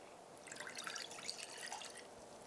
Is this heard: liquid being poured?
yes